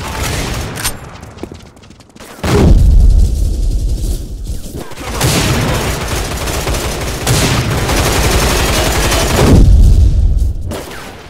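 Grenade explosion and sustained gunfire in the free-to-play FPS game Line of Sight, heavy booming blasts and dense rattling automatic fire in loud, extended waves with a brief lull near the start.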